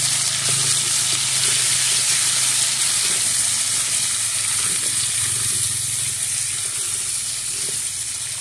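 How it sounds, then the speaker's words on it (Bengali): Potatoes fry with turmeric and salt in hot oil while being stirred, producing a loud, steady, close sizzle that hisses continuously with faint scraping underneath. "এবার আমি ভালো করে নেড়ে চেড়ে ভেজে নেব।"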